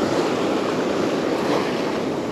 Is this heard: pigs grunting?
no